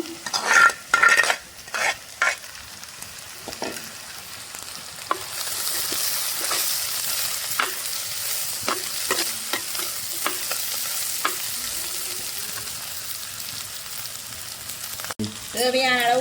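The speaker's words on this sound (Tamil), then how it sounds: "வெங்காயம் நல்லா பொரிஞ்சு வாசம் வருது" Onions with curry leaves fry in oil for a hog plum (Spondias) curry, sizzling and crackling loudly while a spoon scrapes and stirs them around the pan in repeated strokes.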